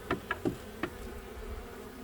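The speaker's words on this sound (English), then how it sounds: "there's actually quite a few bees that are still in here." Bees buzzing inside an opened beehive during an inspection, heard as a few short, faint buzzing bursts close by over a quiet background, with no talking.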